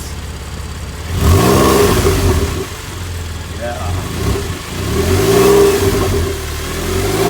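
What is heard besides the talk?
sports car engine revving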